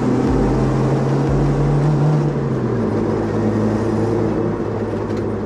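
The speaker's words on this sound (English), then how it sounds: "I quietened the exhaust so that I can hear the engine more" A car engine and quietened exhaust drone steadily up close, the low hum dipping in pitch partway through as the engine eases off.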